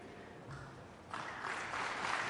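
Applause from a conference audience at a UN climate summit session on forests, faint and distant at first, then swelling into fuller, denser clapping.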